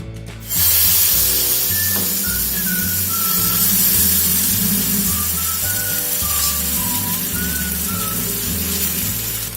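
Oil sizzles on a hot tawa as banana atta pancakes cook. A steady, close hiss holds for the whole stretch over a low, rhythmic background pulse.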